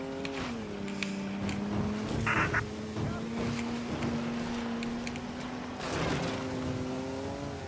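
An old car in the game Mafia 3 drives with a steady, fairly quiet engine hum that holds one pitch and dips slightly, with faint clatters and bumps over it and no talking.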